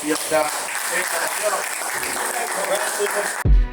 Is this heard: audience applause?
yes